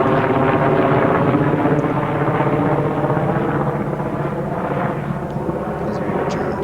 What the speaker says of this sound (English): A helicopter is passing by